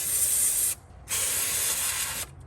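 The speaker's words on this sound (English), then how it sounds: "I'm going to spray these to hopefully get some grit out of there." Cleaner hisses from a spray can onto the electrical connectors on the valve cover of a Toyota Lexus 5.7L 3UR-FE engine, in two close bursts separated by a short pause.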